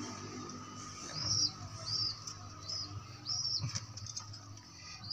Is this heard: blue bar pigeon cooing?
yes